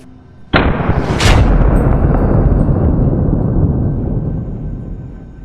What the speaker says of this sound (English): Shots rang out, and one by one, several of them went down.